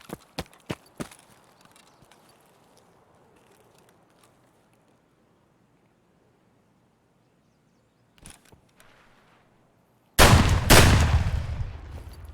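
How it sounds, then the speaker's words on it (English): Gunfire in the video game Escape from Tarkov: several sharp, distant shots early on, two more around the eighth second, then a loud close burst of rapid firing at the end. "there's another person shooting at him"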